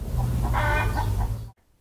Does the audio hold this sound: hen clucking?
yes